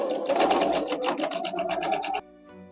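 A sewing machine stitches a 0.5 cm pocket seam in a quick, even run of needle strokes for about two seconds before stopping abruptly.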